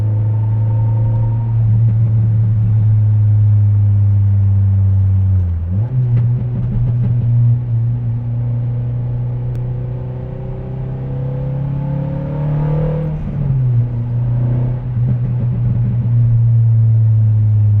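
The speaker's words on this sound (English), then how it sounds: "I wonder if you can hear the pops just from the mic itself." A manual Acura TSX drives along with a steady, close engine and exhaust drone, shifting pitch through gear changes, with occasional faint crackles and pops underneath the rumble.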